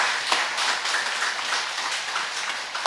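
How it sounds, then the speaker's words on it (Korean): Church congregation applauds with a steady, moderately loud patter of many hands clapping together, sustained throughout with no talking. "우리 다시 한번 박수 주시기 바랍니다"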